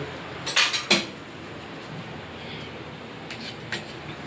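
Knife tapping and scraping against a plate while cutting papaya halwa, with a few sharp metallic clinks near the start and fainter taps later over low room hiss.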